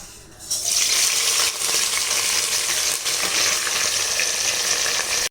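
Onions sautéing in a pan for kudal curry, a bright, steady sizzle that starts abruptly and holds at close range, with occasional stirring scrapes and no talk.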